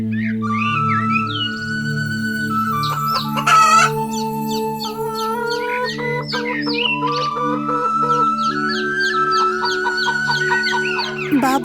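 A rooster in a children's story crows and clucks repeatedly: loud, close, drawn-out calls and shorter clucks layered over sustained tonal sounds that run through the whole stretch.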